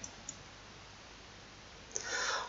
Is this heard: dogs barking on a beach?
no